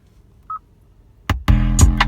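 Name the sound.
phone ringtone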